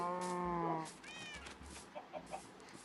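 A cat meows loudly and close up in a Minecraft game, a long drawn-out call followed by a shorter, higher meow, then faint soft noises.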